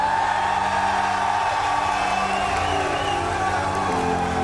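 A large crowd at a Supercross race in Anaheim roars and cheers steadily throughout, a dense wash of voices and whoops filling a big reverberant stadium.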